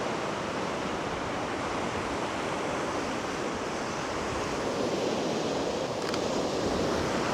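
Sea water surges and washes in among rocks on a beach as the tide recedes, a steady broadband rush with no breaks, moderately loud and close, with no voices over it.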